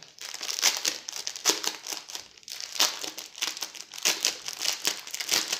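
Crinkly plastic packaging of a diamond painting kit rustles and crackles as it is pulled open, in steady close bursts with brief pauses, no talking over it.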